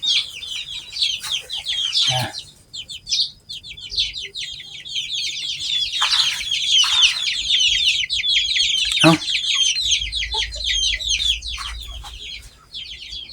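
Chickens cluck and chatter continuously in a small country-style coop, several birds close by with overlapping calls, a few louder squawks, and faint low rumble underneath.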